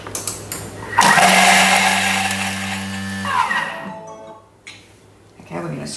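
A Thermomix whirs at speed 8 for about two seconds, blending a corn salad with a loud, steady high-pitched motor drone that starts abruptly and winds down, followed by quieter kitchen handling sounds.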